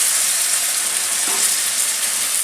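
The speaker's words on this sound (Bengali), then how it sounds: "আমি এবার 1 হাতা মতো গোলা এতে দিয়ে দিচ্ছি।" Pati sapta batter hits a hot oiled wok and sizzles with a loud, steady, close-up hiss of frying that holds evenly throughout.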